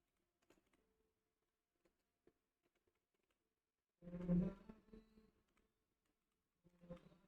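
Keys clatter on a computer keyboard as a Java program is typed: a few sparse, quiet taps early on, then a louder dense burst of keystrokes near the middle and another short flurry at the end, with no talking.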